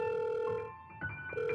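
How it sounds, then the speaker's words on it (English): A telephone on a counter rings with an electronic sound-effect trill, two bursts of bright warbling tone separated by a short gap, clear and close with no voices. "the phone on the counter rang"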